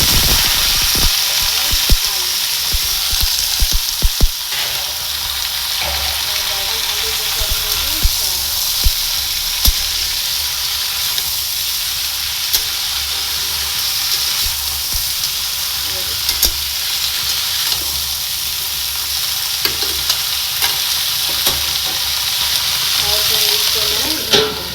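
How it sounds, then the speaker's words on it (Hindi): Potato and eggplant pieces fry in hot oil seasoned with panch phoron, giving a steady, dense sizzle that runs throughout, with scattered small pops and clicks and no speech over it. "जब तक आलू बैंगन फ्राई होता है, इधर मैं चावल को चेक कर लेती हूँ"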